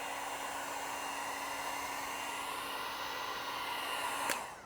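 Heat gun blowing steadily on paint protection film being applied to a Cybertruck, a constant loud rushing whoosh with a faint electric whine that holds throughout, ending with a brief click near the end.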